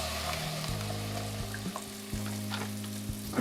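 Frozen cauliflower sizzles and fries in a hot pan, a steady close crackle with soft stirring scrapes and short pops throughout, with no talking.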